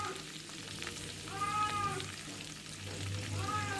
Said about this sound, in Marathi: आता शेंगदाणे वगैरे पण छान तेलामध्ये खरपूस झाले पाहिजे.